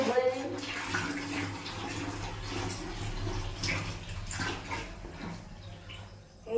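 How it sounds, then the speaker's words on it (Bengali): Water runs steadily from a tap into a bucket and a tub, a continuous close splashing fill lasting throughout, with faint background sounds underneath. "এই বালতিটা ভরবো, এই গামলাটা ভরবো,"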